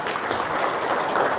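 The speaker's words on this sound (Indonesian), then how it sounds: "Tepuk tangan dong, luar biasa." A short burst of steady applause from an audience at a seminar-style event, continuous and moderately loud.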